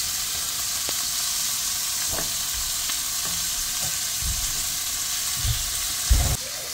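Shrimp seasoned and frying in a pot for shrimp fried rice, a steady close sizzle and hiss with occasional stirring clatters.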